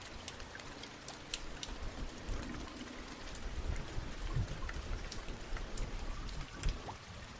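Rain falls during a motorcycle ride, a soft, dense patter of drops with scattered sharper ticks against surfaces, steady and fairly faint without any voices.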